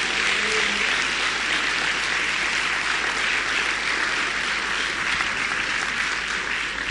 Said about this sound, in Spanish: Dale un aplauso a su Señor